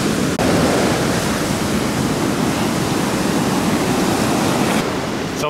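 River or lagoon water breaking through onto a California beach: a loud, steady roar of rushing, churning water and surf, broadband and continuous throughout with no voices.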